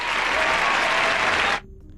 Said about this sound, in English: So like this is gonna be the hand clap